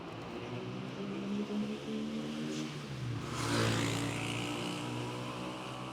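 Steady engine drone of passing street traffic with many motorbikes, a louder motorbike swelling by midway, continuous street noise throughout.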